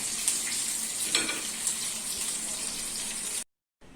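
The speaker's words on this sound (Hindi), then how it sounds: "अब इसे तकरीबन मैं थोड़ा सा पानी डालूंगी, तकरीबन 1 कप, और इसे थोड़ा सा दम पे आलू गलने तक पकाऊंगी।" Masala fish curry with potatoes sizzles and bubbles in a pot after about a cup of water goes in, a steady close hiss with light stirring clinks, ending abruptly in silence.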